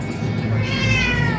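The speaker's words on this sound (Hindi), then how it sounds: "पहले म्याऊं म्याऊं कर रही थी" A cat meows loudly and up close in one drawn-out, strained call that fills the moment, with no talk over it.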